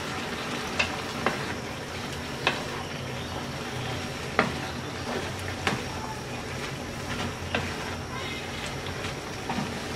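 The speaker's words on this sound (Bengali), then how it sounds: "এবার ভালো করে নেড়ে দিচ্ছি" Dry shrimp and bottle gourd greens cooking in a pan are stirred over steady sizzling, with a spatula scraping and knocking against the pan every second or two.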